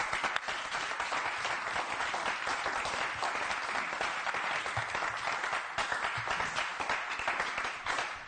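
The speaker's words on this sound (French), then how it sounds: "On applaudit pour..." Sustained audience applause fills a church gathering, a dense, steady wash of many hands clapping at an even level throughout, with no voices rising above it.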